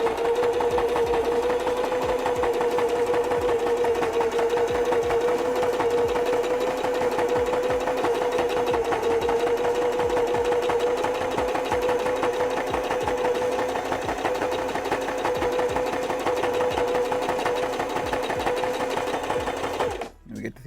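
A sewing machine stitches fabric ears in a fast, steady, continuous run up close for about twenty seconds, then stops abruptly at the end.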